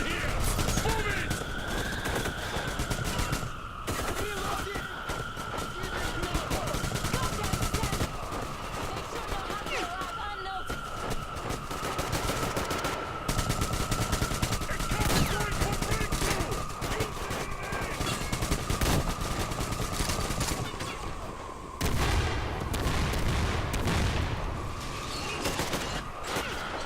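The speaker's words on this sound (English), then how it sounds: "Heard the shots." Rapid gunfire crackles almost nonstop in the Metro Exodus shooter, dense bursts layered over a steady in-game tone, with voices shouting at times in the mix.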